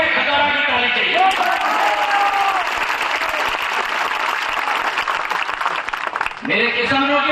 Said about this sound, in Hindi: खतौरा की ताली चाहिए।